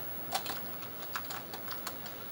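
Quick, steady keystrokes on the keyboard of a 1980s 8-bit home computer, close and fairly quiet, clicking at an even typing pace with no voices.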